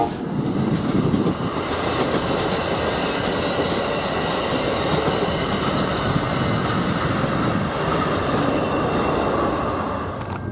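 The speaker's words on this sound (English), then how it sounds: "Here's an Amtrak heading to Chicago Union Station." An Amtrak passenger train, likely a Wolverine, heads toward Chicago Union Station in northwest Indiana, a loud, steady rumble of rolling cars with faint wheel squeal holding for the whole stretch, no voices.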